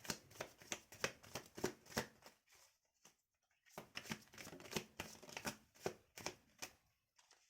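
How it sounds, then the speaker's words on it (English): Tarot cards being shuffled by hand, a close, crisp run of rapid riffling flutters that breaks off briefly and then resumes in a second burst. "Oh, see, I'm shuffling."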